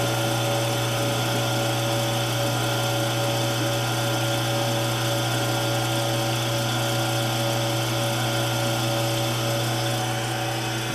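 A machining tool makes a steady, loud, unbroken whine with a strong constant hum while taking the final squaring pass on the end of a cam bearing installation tool for a Farmall Super M engine.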